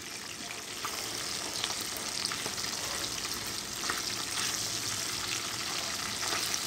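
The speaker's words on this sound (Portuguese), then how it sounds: "fritar bem esse bacon" Bacon fries in a pan with a steady, even hiss of sizzling fat, soft and unbroken throughout, and a few tiny pops scattered through it, without any speech.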